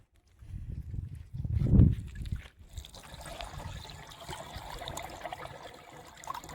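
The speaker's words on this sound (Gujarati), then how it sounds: "જે 2 ડબલા પાણી નાખી 5-6 લીટર પાણી નાખી" Water poured from a container into the tank of a farm sprayer pump, a brief louder gush followed by a soft, steady trickle close by.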